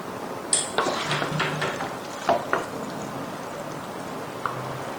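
Utensils scraping and clinking against a pan and dish as chicken chow mein is served out, a few sharp metallic taps and clatters scattered over quiet moments.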